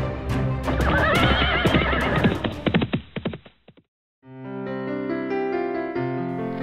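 A cartoon horse in an animated Vietnamese folk tale lets out a long, loud whinny that breaks into snorting bursts, followed by a brief silence and then a sustained tonal sound, with no talking.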